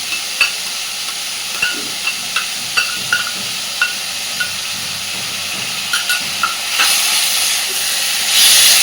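Ginger garlic paste fries with potatoes and onions in a pan, a steady loud sizzle punctuated by regular scraping taps of a stirring spoon, rising to a stronger hiss near the end.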